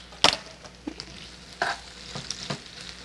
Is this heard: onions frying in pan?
yes